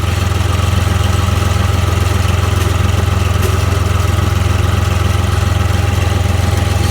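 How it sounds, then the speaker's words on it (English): A Case IH tractor engine idles as it warms up, a loud, steady low chugging rumble with even pulsing throughout and no speech. "Just let it run a little bit here, let it warm up."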